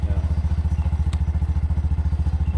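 A 2024 Bajaj RE tuk-tuk engine idles with a fast, even chugging pulse and light mechanical rattle, close by, steady throughout with one brief click.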